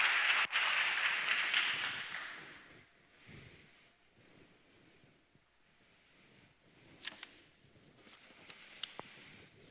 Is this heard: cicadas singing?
no